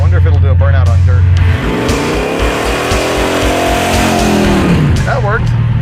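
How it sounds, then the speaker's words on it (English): The Draguar, running without its blower belts, revs hard for a burnout on dirt, a loud roaring engine surge swelling and fading over a few seconds, with people talking just before and after. "I wonder if it'll do a burnout on dirt."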